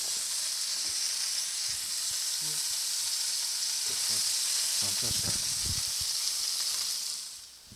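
A burger patty sizzles steadily in a hot pan, a continuous close frying hiss with a few soft clicks and scrapes near the end, no talking.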